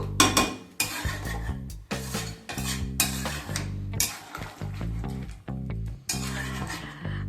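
Mutton curry stirred in a karai, with rhythmic scraping strokes of a spatula against the metal pan, light clinks and a soft sizzle, close and fairly quiet.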